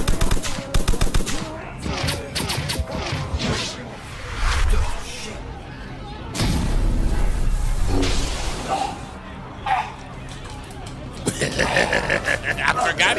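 Rapid bursts of gunfire crackle from an anime episode, with machine-gun rattles and single shots in several loud clusters, mixed with someone talking over them.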